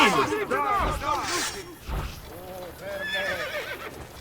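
A horse in Assassin's Creed Brotherhood gives several loud, rising whinnies over clip-clopping hooves, with quieter game noise underneath.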